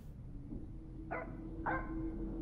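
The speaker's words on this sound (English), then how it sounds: "Oh, the dog's barking again." A dog in the horror video game Supernatural barks twice in quick succession, the short sharp yaps sounding slightly distant over a steady low ambient drone.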